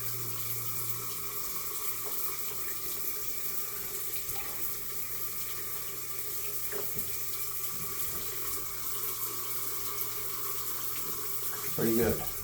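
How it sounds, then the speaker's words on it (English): Hot water runs steadily from a tap in a river house being winterized, a continuous, fairly quiet close stream with a brief louder splash near the end. "Now I'm going to run the hot water."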